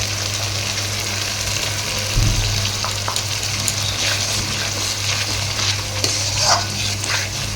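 Poppy seed paste masala with a little water is stirred and fried in a pan, giving a continuous moderate sizzle with intermittent scraping strokes and a brief thump.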